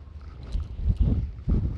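Wind gusts buffet a microphone on an exposed Peak District hilltop, low rumbling blasts that swell and drop in uneven pulses, loud and close with no voices.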